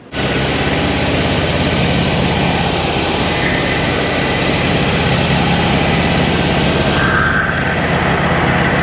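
A stock 1600cc engine fitted with a supercharger idles steadily and loudly close by, a dense continuous drone that holds throughout with no talking over it.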